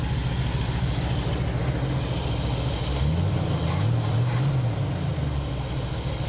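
A 1968 Pontiac Superior ambulance engine runs at a steady, low idle nearby, with a brief rise and fall in pitch midway before settling back to an even rumble.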